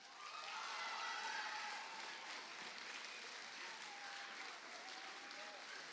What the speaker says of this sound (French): je voudrais un tonnerre d'applaudissements pour l'équipe